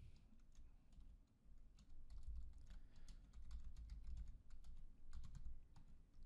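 Quiet, rapid tapping on a computer keyboard while entering a password at sign-up, soft clicks in irregular bursts over a low room hum.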